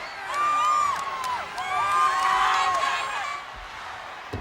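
A record crowd roars and cheers at a World Class Championship Wrestling event in Reunion Arena, a loud, sustained wall of shouts and whoops that swells and dips over several seconds.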